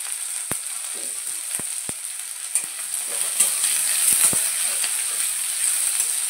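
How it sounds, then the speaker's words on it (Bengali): Chopped onion and two slit green chillies fry in a pan, giving a steady bright sizzle with a few sharp utensil clicks scattered through, close and fairly loud, no talking. "পেঁয়াজটা ভাজা ভাজা হয়ে গেছে"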